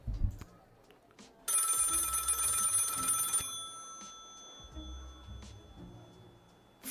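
An old-style telephone bell rings in the video game Papers Please Medieval, one loud continuous burst of about two seconds that cuts off abruptly, with quieter game sounds and low murmurs before and after.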